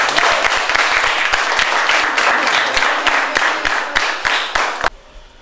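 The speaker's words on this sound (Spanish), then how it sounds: "Aplauso." Loud, dense applause from a school audience, with sharp claps filling the room and a few single louder hits, cutting off abruptly near the end.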